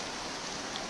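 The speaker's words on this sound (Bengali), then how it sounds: "এখনও বৃষ্টি হচ্ছে।" Rain falls over a street in Sylhet as an even, unbroken hiss of drops and running water, fairly close.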